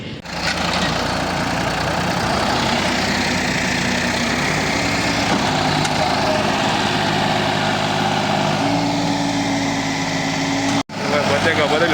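A tractor loaded with potatoes sits stuck while its engine runs steadily at high revs, a loud continuous diesel drone throughout with a brief cut near the end.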